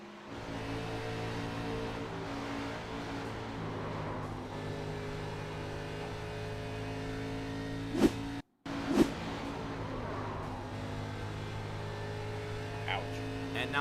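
A high-pitched racing engine in a video game race at Texas Motor Speedway, heard from the cockpit, drones steadily with shifting tones, a brief dropout midway, then resumes at full revs.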